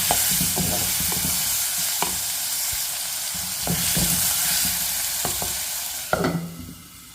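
Tomatoes cook in a pan with a continuous close frying sizzle while a spoon stirs and scrapes repeatedly, the knocks and scrapes sharpest near the end.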